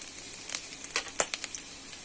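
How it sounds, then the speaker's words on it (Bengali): Chopped garlic frying gently over low heat in a pan for pasta, a soft, faint sizzle with scattered small pops and crackles, steady and close, with no voices. "এখন অল্প রসুন কুচি হালকা আঁচে ভেজে নিব।"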